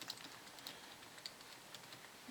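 Very faint keyboard typing as a search is entered on a computer, sparse light key taps scattered over a low hiss with no voices.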